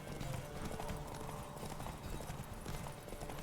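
Galloping hooves in a Witcher 3 horse race, a dense continuous run of quick clip-clop beats over a busy game soundscape, fairly faint overall.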